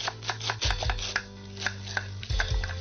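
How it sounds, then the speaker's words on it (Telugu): A knife slices a carrot thinly on a cutting board, with a run of quick, crisp chops that fall in uneven bursts, close and fairly loud. "క్యారెట్ తీసుకో. క్యారెట్ ఒకటేనా? ఓకే. సన్న కట్ చేయి, సన్నగరా."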